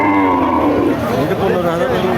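Cattle low at a rural cattle market in Bangladesh, one long, loud, close moo with sustained tonal bellowing that fills the whole moment.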